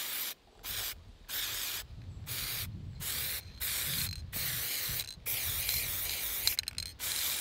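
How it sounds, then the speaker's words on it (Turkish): Spray paint hisses from an aerosol can onto a shooting target in repeated loud bursts, about ten short sprays separated by brief pauses, with no talk. "Sprey boyayla."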